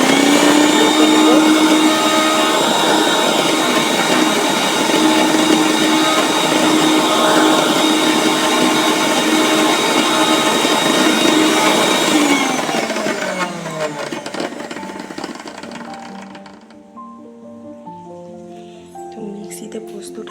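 A mixer grinder whirs loudly and steadily as it grinds poppy seeds, then winds down and stops, leaving quieter handling sounds.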